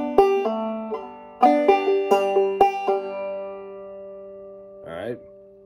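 Clawhammer banjo playing the second line of Auld Lang Syne, a short run of bright plucked notes in clusters with a rhythmic strum pattern, close and clear, followed by a brief slide near the end.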